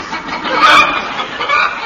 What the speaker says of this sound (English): We rode in silence, save for the odd noises camels are wont to make.